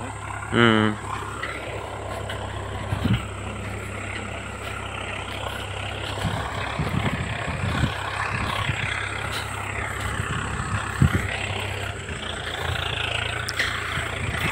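A Swaraj 855 60 hp tractor pulling a land leveler runs with a steady, loud diesel drone and rumbling low harmonics, continuous throughout, with occasional clanks over the engine.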